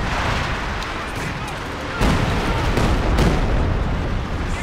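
Artillery shells hit a tank in a video game, producing dense rumbling blasts with a sharper booming impact midway. The roar stays loud and continuous throughout, with some voice activity underneath.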